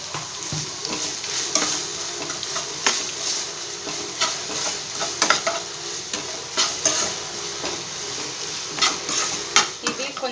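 Soya chunk curry stirred and frying in a pan, a steady sizzle broken by repeated scrapes and clinks of a utensil, close and alone.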